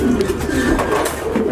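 A steady chorus of soft, throaty pigeon coos fills a large fancy pigeon loft in Jhenaidah, the overlapping calls continuous and close throughout.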